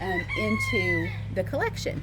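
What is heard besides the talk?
roosters crowing on a farm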